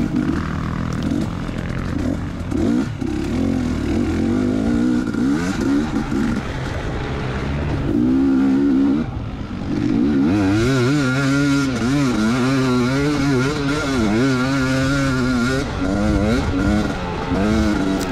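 An off-road motorcycle races a rough section of the Sandy Clam GP, its engine roaring loud and close throughout and rising and falling in pitch as the throttle opens and closes.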